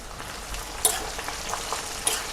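Hair oil simmering in a pan with hibiscus flowers and aloe vera added, giving a soft steady frying sizzle with faint crackles and a couple of small pops, heard alone without any talk.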